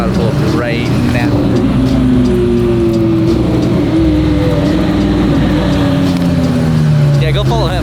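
A car driving up and pulling in, its engine note rising and falling steadily throughout, with people talking over it.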